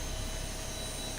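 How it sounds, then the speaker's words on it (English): Airliner jet engines in the X-Plane 12 flight simulator spool down after shutdown at the gate, a dense, steady broadband roar and whine holding loud and even throughout, with no voices. "Listen to our spool down."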